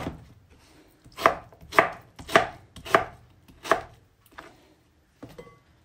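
A knife chops through lemons on a cutting board in six sharp, evenly spaced strokes, close up and crisp, with a faint clink at the end.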